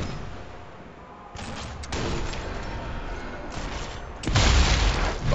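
Grenade blast and gunfire in the Sniper Elite 4 co-op mission on the Reglino viaduct: broadband bursts of shooting build through the middle, then a loud, deep explosion booms near the end.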